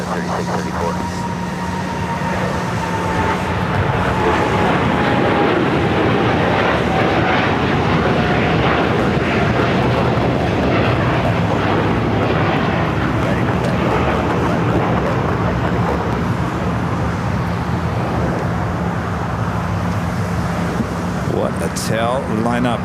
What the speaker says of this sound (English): takeoff is the Dreamliner heading to Shanghai